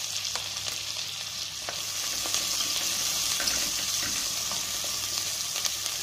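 Onions fry in ghee with ajwain and cumin, a continuous close sizzle with intermittent spoon-stirring clicks and a low steady hum beneath.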